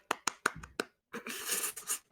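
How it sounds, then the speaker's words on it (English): A handful of scattered, faint hand claps from a small group in a recording room, five or so separate slaps, followed by a brief burst of murmuring and shuffling noise. "I appreciate the clapping, though."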